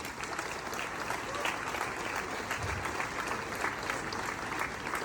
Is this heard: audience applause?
yes